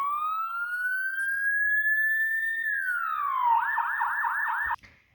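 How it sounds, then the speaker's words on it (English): A siren on a Melissa and Doug Paw Patrol toy dashboard wails, rising slowly then falling into a fast warbling yelp, loud and close, before cutting off abruptly. "It's a siren."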